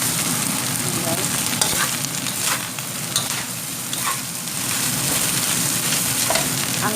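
Brown and red rice stir-fries in a pan with a loud, continuous sizzle and crackle, overlaid by steady scraping from stirring.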